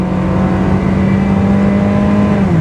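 A 1990s BMW E36 318i four-cylinder engine at full throttle on a highway around 6,500 RPM, a loud sustained droning rev heard from inside the car, steady throughout and dipping slightly in pitch near the end.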